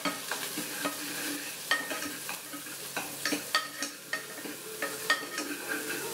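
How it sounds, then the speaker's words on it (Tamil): Potato kurma ingredients sautéing in a pan: a spatula scrapes and taps rhythmically over a light, steady sizzle, close and fairly quiet. "பொன்னிறமாக வர வரைக்கும் வணக்குங்க."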